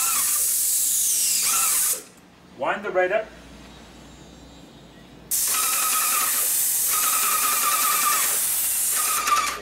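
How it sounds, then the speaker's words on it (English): A loud, steady hiss of an HD440 high-pressure airless paint sprayer spraying clean water into open air for a couple of seconds, stopping, then resuming with a harsh rushing spray, with someone talking in between. "you can spray it simply into the open air until you get clean liquid coming through"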